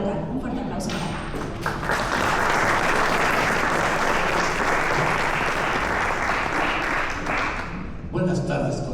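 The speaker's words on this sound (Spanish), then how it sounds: "Un fuerte aplauso para él." Audience at a book launch breaks into sustained applause for a speaker, a dense, loud wash of many hands clapping that swells quickly, holds steady for several seconds, then tapers off.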